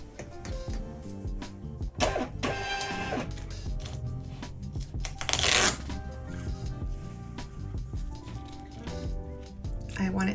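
Printer reprinting a 2x2 graphic in a small business workspace, a busy mechanical whirring and shuffling with rhythmic feed bursts and a sharp paper rush near the middle, close and fairly loud, with some voice around it.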